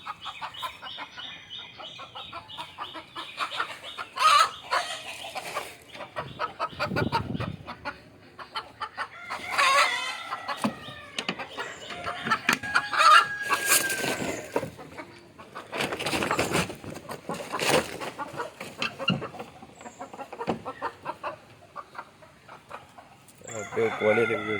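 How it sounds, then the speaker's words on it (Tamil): Country chickens let out of their coop in the morning cluck close by while a rooster crows repeatedly, with bursts of fowl calls and crowing recurring throughout the long stretch. "அப்படியே கோழி வீடியோ எடுத்துகிட்டு இருக்கேன்"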